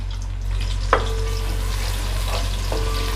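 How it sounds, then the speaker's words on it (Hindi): Sliced onions frying in oil with cloves, cardamom and cumin as the base for mutton pulao, a steady low sizzle with a couple of brief stirring scrapes, alone with no talk. "तो प्याज को सुनहरा होने तक फ्राई कर लेंगे"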